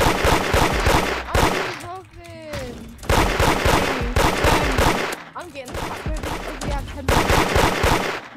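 Rapid gunfire cracks repeatedly in the Roblox game Da Hood, loud bursts of automatic shots broken by short pauses, with a voice speaking between and over the volleys.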